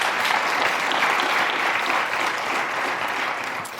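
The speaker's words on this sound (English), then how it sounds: "they're clapping like that's some kind of huge breakthrough" Steady, dense applause from an audience, evenly sustained and fairly close for the full few seconds, with no voices rising above it.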